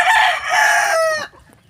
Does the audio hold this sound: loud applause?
no